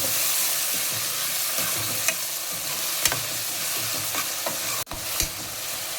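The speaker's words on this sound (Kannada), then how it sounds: "ಆಮೇಲೆ ಮೆಂತ್ಯ ಸೊಪ್ಪನ್ನ ಫ್ರೈ ಮಾಡಿರೋ ಟೊಮೆಟೊ ಮತ್ತು ಈರುಳ್ಳಿಗೆ ಹಾಕಿ ಮಿಕ್ಸ್ ಮಾಡಿ" Fenugreek leaves get stirred into fried tomato and onion in a pan. A continuous close sizzle carries irregular scraping stirs and one sharp knock near the end.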